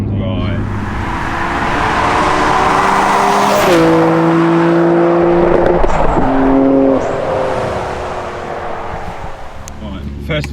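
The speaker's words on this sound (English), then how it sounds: "The engine's not happy and wants to conk out sometimes" A Nissan Skyline R32 GTR engine runs rough at idle and wants to stall, its steady drone rising and dipping in pitch through the middle, close and loud with some background noise.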